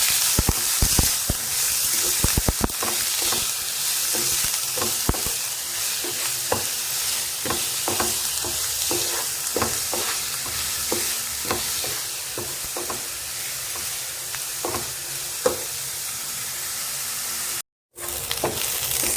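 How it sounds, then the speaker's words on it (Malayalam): Chopped onions sautéing in a pan while being stirred: a steady close sizzle punctuated by repeated scraping clicks of a spoon against the pan, continuing without talk for nearly twenty seconds. "സവാള ഒന്ന് നന്നായിട്ട് വഴറ്റിയെടുക്കാം."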